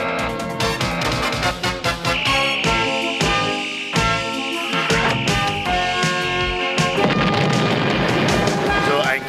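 Cartoon blaster shots and explosions from the She-Ra Princess of Power animated series ring out as a rapid string of sharp zaps and booms. Dramatic music swells beneath them and brief voices are heard.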